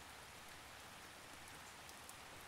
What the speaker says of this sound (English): I love the rain.